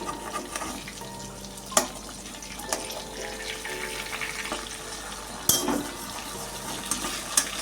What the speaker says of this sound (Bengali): মাছটা একটা পিঠ ভাজা হয়ে গেছে আমি এখন উল্টিয়ে দেবো